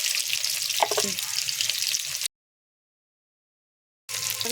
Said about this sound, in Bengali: চিংড়ি মাছটা দিয়ে দেবো, পেঁয়াজের সঙ্গে একসঙ্গে ভেজে নেবো